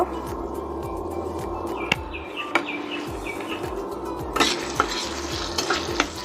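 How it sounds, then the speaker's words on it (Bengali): Chopped onions fry in oil in a pan, a continuous soft sizzle broken by scraping stir strokes and light clinks of utensil on metal, with faint birdsong in the background. "এটা কালারটা চেঞ্জ হওয়া পর্যন্ত আমি এটা ভাজে নেব"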